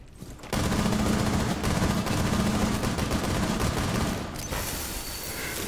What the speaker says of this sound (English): can you just shoot the wall?